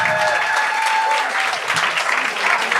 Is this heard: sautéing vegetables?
no